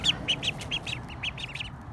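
Young ducklings on a farm give a rapid series of about nine short, bright quacks at a steady rhythm, fairly close and fairly quiet over a low background hum.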